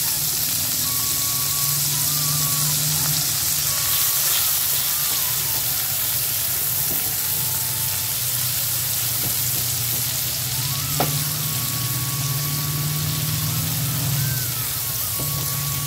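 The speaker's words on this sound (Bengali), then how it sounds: "তখন আমি এর মধ্যে দিয়ে দেবো কুচিয়ে রাখা পেঁয়াজ।" Finely chopped onion frying in hot tempered oil for a potato and mint dish, a steady loud sizzle with occasional stirring clinks, no talking.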